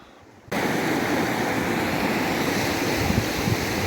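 River rushing over bedrock in New Zealand's North Island goldfields on a dull day, a loud steady broadband roar of flowing water that starts abruptly and holds constant, close to the microphone with some wind noise.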